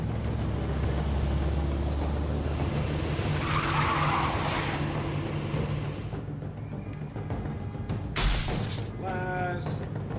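Glass shatters loudly in The Wolf Among Us, a sharp bright smash followed by a second crash and falling shards, over a tense rumbling game soundtrack.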